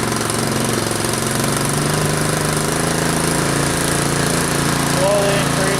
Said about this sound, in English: Now you can give it more gas to start snow blowing.